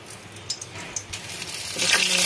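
Dried red chillies hit hot oil in a wok with a few sharp pops and crackles, building into a louder steady sizzle near the end.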